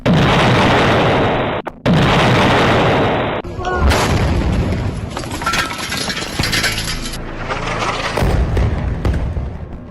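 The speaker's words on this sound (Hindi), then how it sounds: "टारगेट लॉक होता है और तभी होता है एक जोरदार धमाका" A loud, dense roar of noise gives way to a sudden break, then a rumbling blast from an Israeli strike and crackling debris that continue steadily.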